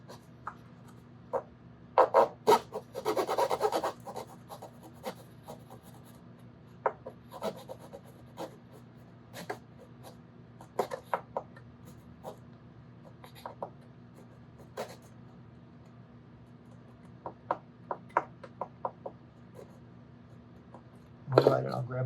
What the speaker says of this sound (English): I need to cut this brace off on the outside line